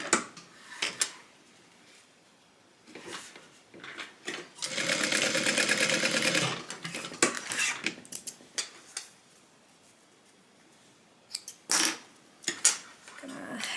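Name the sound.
sewing machine stitching a tote bag seam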